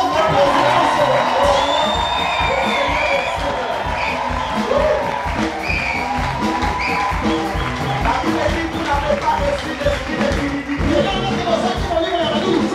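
A church congregation cheers and acclaims loudly and without letup, a dense crowd roar of shouting and whooping voices that carries on for the whole stretch.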